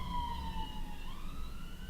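Emergency vehicle siren from a police car or ambulance, a wailing tone that rises and falls steadily and sounds somewhat distant over background rumble, with no talking.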